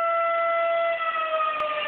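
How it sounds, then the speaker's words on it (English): A loud, sustained wailing siren with a steady tone, a fire siren sounding nearby without pause. "Fire siren."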